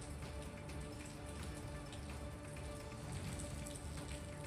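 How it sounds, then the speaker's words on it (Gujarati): Unseasonal rain falling during a storm with strong wind, a dense steady patter of drops hitting surfaces nearby, continuous and even with no voices. "પોશીના સહિતના વિસ્તારોમાં ભારે પવન સાથે વરસાદ વરસ્યો।"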